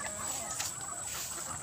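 Backyard hens cluck softly and briefly close by on a farm on a rainy afternoon, with a faint steady hiss in the background.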